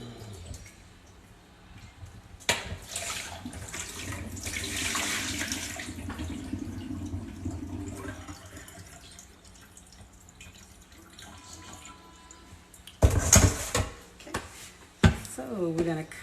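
Tap water runs into a sink while soup ingredients are washed, a mid-level splashing stream with intermittent clatter and louder splashes near the end, and a person talks over it.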